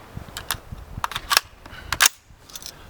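A CAR15 retro reproduction rifle fires American Eagle military-grade 55 grain ammunition at a range: a quick, uneven string of sharp cracks, some spaced apart and some close together, fairly near and loud.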